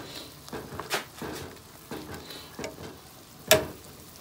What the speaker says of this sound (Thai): คนแล้วรอสักครู่นะครับ